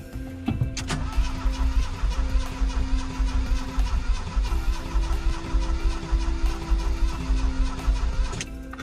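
A Volkswagen Vanagon 1.9 waterboxer, a non-runner being revived, cranks with a fast rhythmic starter chug and then catches, its engine close and loud, with a rev that falls back to a steady idle.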